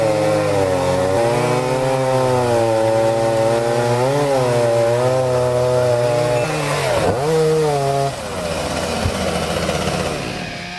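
A handheld chainsaw trimming a tree runs steadily at high pitch for several seconds, its engine note bogging and shifting as it bites into wood, then easing off toward the end.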